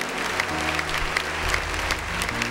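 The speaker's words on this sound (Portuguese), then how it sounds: "Batam palmas para Jesus agora, com toda alegria." A church congregation claps hands together in sustained, dense applause during a Mass, a steady wash of many hands at moderate distance with no voices over it.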